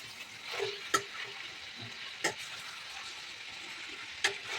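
Chicken with turmeric and salt sizzles steadily in a hot pan at moderate volume, with a few sharp clicks of a spoon or spatula stirring the pieces.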